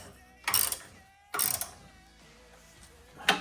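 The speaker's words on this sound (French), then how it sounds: "Douille de 13. Et on serre." A ratchet with a 13 mm socket tightens a bolt fixing a wall-hung toilet support frame, giving three short bursts of rapid clicking, close and fairly loud, separated by brief pauses.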